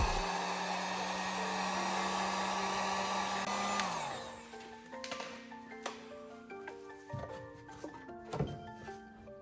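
A heat gun runs with a steady whooshing blow to warm an aero part on a Toyota Celica GT-Four for removal, then shuts off, leaving faint clunks and knocks from the part being worked loose.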